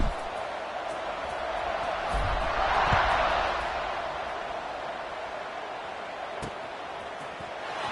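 Football stadium crowd cheering in a steady broad roar that swells slightly in the middle, with a sharp thud or two breaking through and a faint voice under the noise.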